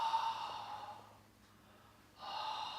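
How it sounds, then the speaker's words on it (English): Purposeful out breaths during a chi kung exercise, long breathy exhales close to the microphone, a sustained rush that fades to near silence before a second breath swells back in. "3 purposeful out breaths."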